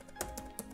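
A few quick, faint key taps sound on a computer keyboard as the Bettercap command is typed, close by and quiet in a short burst.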